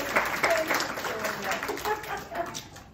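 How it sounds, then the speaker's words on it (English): A small audience at a live interview in a senior residence gives a round of applause, a moderate patter of clapping hands heard at a slight distance with faint voices underneath. "So yeah, round of applause."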